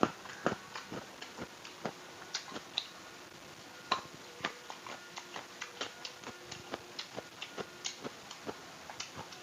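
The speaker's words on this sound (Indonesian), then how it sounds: "Waktu digigit juga kriuk-kriuk dia pepayanya" Raw papaya rujak is bitten and chewed, giving sharp crunchy clicks in an irregular, steady rhythm, close to the mic and alone with no talking.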